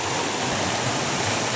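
Floodwater rushes steadily through a field planted with banana and taro, a dense, loud, unbroken roar of flowing water close by.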